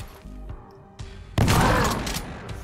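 Shotgun fired in the video game Skyshine's Bedlam, a few soft thumps followed by one heavy, loud blast that booms and slowly decays.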